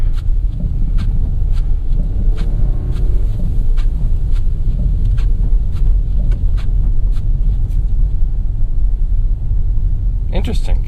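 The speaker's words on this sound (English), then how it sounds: "Let's find out if these wipers work." Windshield wipers on a 2017 Kia Sportage SX AWD during a winter night drive: regular faint sweeps repeating about every second over a constant loud cabin and road rumble, ending with a brief click.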